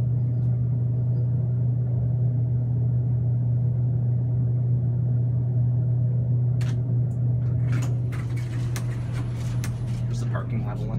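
A 1992 CFI hydraulic elevator cab in motion, giving off a steady, loud low hum and rumble throughout, with clicks and clattering knocks toward the end.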